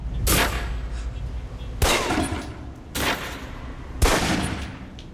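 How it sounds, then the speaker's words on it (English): Four pistol shots at a target range in the video game Alpha Protocol, loud sharp cracks spaced about a second apart, each followed by a short decaying tail over a faint background hum. "Equip the pistol, then aim down range and take some shots at the target."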